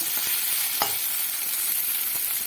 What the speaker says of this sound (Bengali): এবার এটা বেশ খানিক্ষণ সময় ধরে আস্তে আস্তে করে ভাজা করে নেব